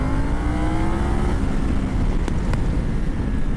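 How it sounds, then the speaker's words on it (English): A 2020 Triumph Tiger 900 triple-cylinder motorcycle engine drones under acceleration, its pitch climbing smoothly over steady wind roar, close and continuous. "The engine sound, it doesn't even sound like I'm on a triple."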